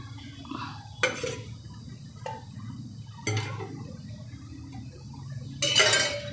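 Oil being spread around a heated pan while making rawa pizza, with a few sharp metallic clinks and scrapes of the pan spaced a couple of seconds apart over a low steady background.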